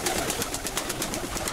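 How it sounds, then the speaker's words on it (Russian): Pigeons in a dovecote give soft, rhythmic coos repeating steadily at close range over a hissy background, with no talk. "ребята, всех нужно выгнать голубей."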